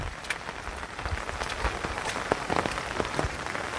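Steady rain patters onto a surface outside a Konkan farm during the ploughing season, with dense drops and scattered sharper splashes throughout, fairly close and unbroken by talk.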